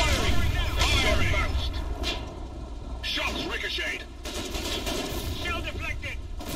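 Tank cannon fire in the Foxhole war game, with heavy gunfire-like blasts and booms in rapid succession over a dense battle din, mixed with game voice lines and talk.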